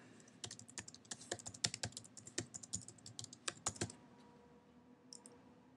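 Rapid, uneven clacking of a computer keyboard as a search query is typed, close and clear for about four seconds, then a brief pause and a couple of final key taps.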